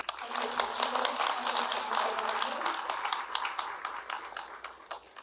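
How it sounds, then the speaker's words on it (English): An audience at a spiritual gathering gives a round of applause, many hands clapping in a steady, dense patter, with a brief voice at the start. "If we could give her a big round of applause"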